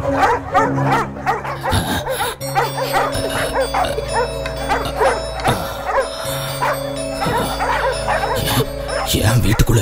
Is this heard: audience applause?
no